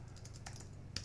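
Sparse, light clicks of typing on a computer keyboard while writing React code with Office UI Fabric components, a few separate keystrokes over a quiet, steady background hum.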